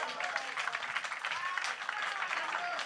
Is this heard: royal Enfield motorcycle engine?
no